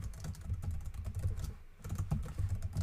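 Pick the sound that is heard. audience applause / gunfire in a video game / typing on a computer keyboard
typing on a computer keyboard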